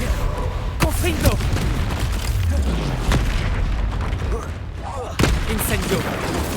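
Confringo blasting spell cast in Hogwarts Legacy, a series of booming impacts and crackling bursts in quick succession, with a strong blast near the start and another about five seconds in, over a dense rumbling game soundscape.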